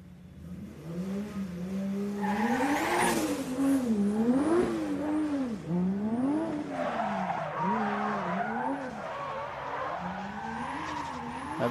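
A Scion drift car at a Norgescup drifting event at Gardermoen Raceway, its tires squealing in long, loud, wavering skids while the engine revs and bounces in pitch throughout, with no voices over it.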